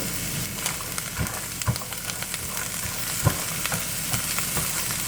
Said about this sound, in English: So I'm just gonna let this saute.